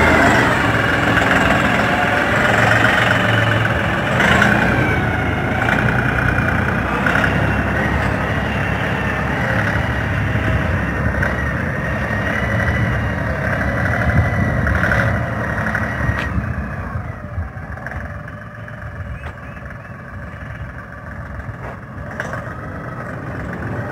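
A tractor engine runs steadily with a loud, close drone, then its tone drops and thins toward the end as the machine pulls away. No one speaks.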